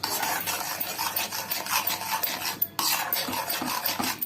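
Mango pieces and sugar stirred in a pan with a spoon, a steady close rhythmic scraping and rasping against the metal, repeating strokes with a brief pause midway.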